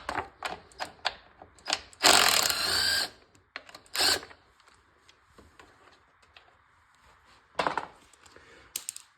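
An 8 mm wrench loosens the carburetor cover bolt on a lawn mower, giving a run of sharp metallic clicks and clanks in uneven bursts, with a few louder rasping stretches, close by and without talk.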